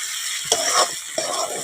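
Taro stems sizzle in a hot pan while a spatula stirs them, two distinct scraping strokes over a continuous bright frying hiss, close and fairly loud, with no talking.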